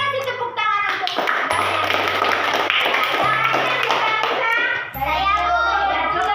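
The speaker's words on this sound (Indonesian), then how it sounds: "Kita kasih tepuk tangan untuk" Pupils in a school classroom clap their hands together for a classmate, a dense burst of clapping that swells for a few seconds with children's voices and a steady tone underneath.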